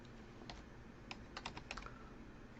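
Typing a chart title on a computer keyboard in Excel, with a handful of light key clicks in irregular bursts over steady background hiss, close and quiet with no voices.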